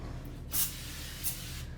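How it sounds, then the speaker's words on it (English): Two short bursts of glass cleaner sprayed onto bathroom shower glass, each a brief airy hiss standing out over a low background hum, about half a second apart. "I spray the glass cleaner on"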